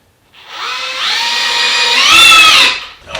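Power drill driving screws while building DIY closet storage, a single rising whine lasting about three seconds that speeds up near the end, close and loud with no talking.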